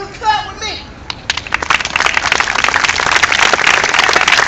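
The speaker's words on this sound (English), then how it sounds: "Everyone clap with me." An audience claps hands in a steady, dense patter that builds after a brief opening voice and continues throughout, loud and close with some crowd noise mixed in.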